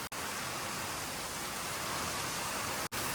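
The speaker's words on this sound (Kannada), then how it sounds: "ಸರಿ ಬರ್ತೈತೆ ಗುರು ಮಳೆ ಚಿಂದಿ ಇದು" Steady rain hisses evenly and continuously, a dense wash of sound with no voices, briefly cutting out twice.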